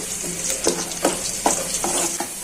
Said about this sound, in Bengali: রসুন দিয়ে বাগা দিতেছি